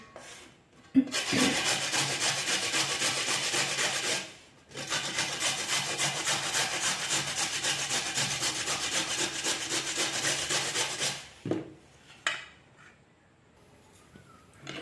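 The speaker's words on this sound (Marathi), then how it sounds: "सुरुवात करते मी आता पहिल्यांदा मुळा किसून घेते मुळा मी पहिल्यांदा किसून घेणार आहे" Radish grated by hand for a salad, a steady scraping rasp running continuously for several seconds, pausing briefly, then resuming in a long rhythmic stretch before trailing off into quiet.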